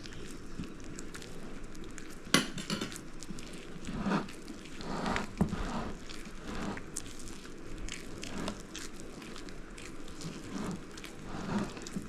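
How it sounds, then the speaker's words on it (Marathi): Aloo vadi batter is mixed by hand, a close, wet squishing and slapping with soft crackles and irregular squelches that continue steadily throughout, without speech. "मी आता डायरेक्ट हातानेच मिक्स करते"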